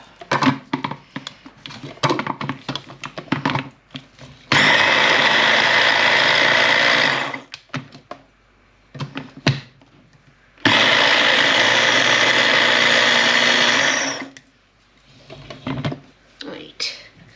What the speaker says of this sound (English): And then we'll just whiz that up.